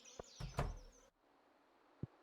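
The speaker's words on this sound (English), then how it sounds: "bugs buzzing around" Bugs buzzing in Stardew Valley: a faint, wavering insect whine with a brief louder burst early on, then quiet with a single soft click near the end.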